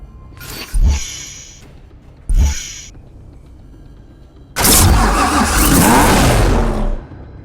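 A Corvette Grand Sport in a racing game goes through two short starter cranks, then fires into a loud, steady broadband idle roar that holds for about two and a half seconds before cutting off.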